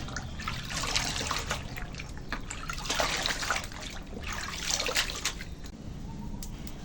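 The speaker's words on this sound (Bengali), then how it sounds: "এই লাউ পাতা এবার জলে দিয়ে এরকম ভালো করে ধুয়ে পরিষ্কার করে নিচ্ছি" Bottle gourd leaves are swished and rinsed in water, giving a steady trickling and sloshing wash in repeated surges, close and moderately loud, with no talk.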